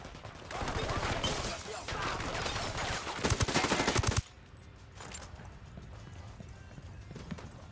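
Gunfire in the video game Ghost Recon Wildlands, dense bursts of rapid shots rattling for several seconds before stopping abruptly, followed by a quieter stretch with a lone distant burst.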